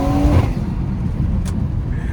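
A BMW 340i with xDrive accelerates uphill, its engine a dense low rumble heard from inside the car, steady and loud, with a brief rising tone at the start fading into continuous drone.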